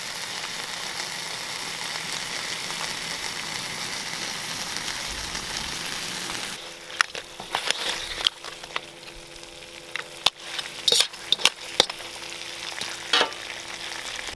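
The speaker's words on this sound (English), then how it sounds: "And then give it a good mix up." Coconut mudcrab curry sizzles in a pan, a steady frying hiss that turns into clattering stirring and scraping as the sauce is mixed through, with occasional sharp clicks of utensil on pan.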